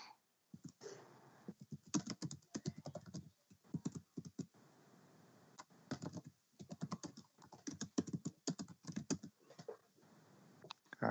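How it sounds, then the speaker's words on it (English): Fast, vigorous typing on a computer keyboard, dense bursts of key clicks with short pauses between, close and fairly quiet. "I hear some vigorous typing."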